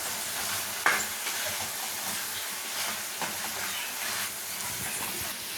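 Chicken being stirred and fried in a pan with chili powder, a steady broadband sizzle with scraping stir strokes and one sharp clatter near the start, no talking.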